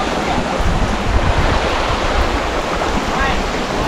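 Thi Lo Su waterfall pours in a steady, dense roar of falling water, loud and unbroken throughout with no distinct pauses.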